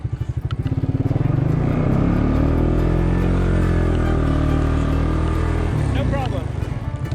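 A Suzuki King Quad ATV climbs a snowy hill in four-wheel-drive low range. Its engine drones loudly and steadily nearby, labouring at an even pitch with a slight rise and fall.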